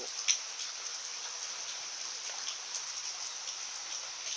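Rain from Cyclone Yaas in Odisha falls steadily, a continuous hiss of drops on surfaces with a few brief louder splats, moderately distant and alone.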